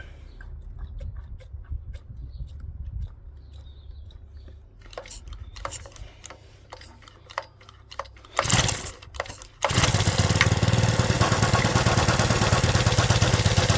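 Stihl FS65 brushcutter with the choke on, starting up: quiet low rumbling and a few ticks at first, then a brief loud burst of firing before the two-stroke engine settles into a loud, steady roar, with no talk.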